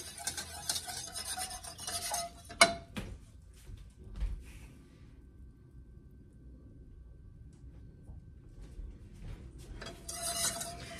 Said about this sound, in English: 1½ cups of cold water and just give that a good whisk until the cornstarch dissolves